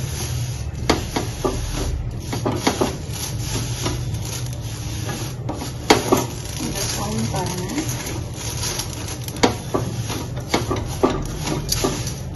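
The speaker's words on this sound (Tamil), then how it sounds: "நல்லா மிக்ஸ் பண்ணிக்கலாம்." A hot snack is stirred and tossed after salt is added, giving a steady scraping and rubbing of food against the pan with small clinks, under continuous background hum while someone talks.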